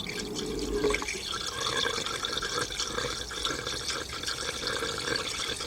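Premixed 50/50 coolant poured from a gallon jug into a car engine's cooling system during a timing belt and water pump job on an Acura SLX, Honda Passport or Isuzu Rodeo, giving a steady close glugging trickle with drips and no talk.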